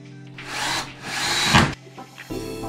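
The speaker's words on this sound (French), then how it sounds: "Vissez cette latte sur la poutre au point le plus bas du plafond." A wooden ceiling batten is screwed onto a beam at the low point of a ceiling during panelling work, a short whirring power-driver burst that rises, cuts off and restarts briefly.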